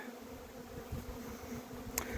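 Honey bees fly around their hives during feeding season, returning with pollen: a faint, steady buzzing hum close by, with occasional louder passes of individual bees.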